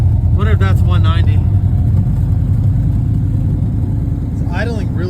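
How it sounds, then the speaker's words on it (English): A 1977 El Camino engine idles steadily with a low, slightly poppy rumble after sitting for years, close and continuous, while someone talks over it. "It's idling really good. It's more poppy now that I got the original fuel tank back to it"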